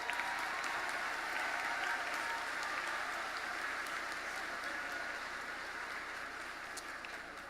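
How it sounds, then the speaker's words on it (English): An audience at a 2019 Pedro Menendez High School graduation ceremony applauds in a dense, steady wash of clapping from a large crowd that holds at full strength throughout, with only a slight easing near the end. "Give him a round of applause."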